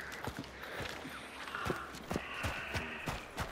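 Horse hooves in the video game Hunt: Showdown 1896, a run of quick, close clip-clop strikes with an uneven rhythm over quiet game ambience.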